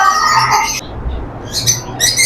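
Nun sparrows, also called Lucknow finches or black nuns, in a bird shop, giving a few short bright chirps that start loud and then break off into brief bursts with pauses.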